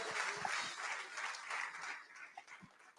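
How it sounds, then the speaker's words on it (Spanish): A church congregation claps in praise, a busy burst of many hands heard somewhat distant and soft, tapering toward the end, with no talking. "Dale un aplauso de alabanza al Señor."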